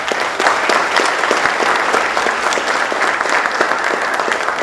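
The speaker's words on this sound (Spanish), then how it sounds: "el aplauso para la doctora." An auditorium crowd at a sports medicine and rehabilitation conference gives steady, dense applause for a doctor, sustained and loud throughout.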